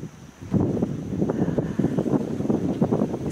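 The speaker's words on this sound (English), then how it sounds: "It's a little bit windy now, very sunny day" Wind rumbles and buffets against the microphone in steady low gusts, fairly close and continuous for a few seconds.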